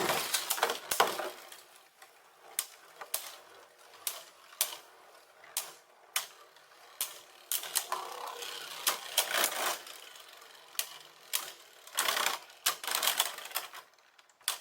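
Beyblade tops launched into a cheap plastic arena clatter and scrape with sharp, irregular clicks and knocks, some clustered in quick bursts, fairly faint and close with no talking.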